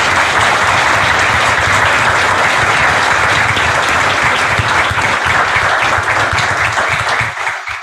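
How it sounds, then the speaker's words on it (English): Sustained, loud applause from an audience at a Supreme Court discussion event, dense clapping holding steady for several seconds before tapering off at the end. "I'd like a round of applause for both of them."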